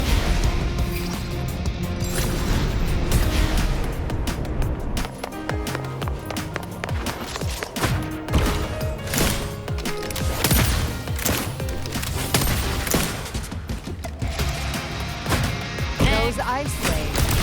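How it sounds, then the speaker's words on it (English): Dense, loud video game combat in Wuthering Waves, with rapid shots and crashing impacts over continuous music and effects, and a voice speaking at points. "I'll use the feather blade to weave through them while shooting."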